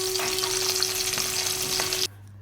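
Fish rubbed with salt and turmeric fries in hot oil with a constant, close, crackling sizzle that cuts off abruptly near the end, leaving a quiet hum.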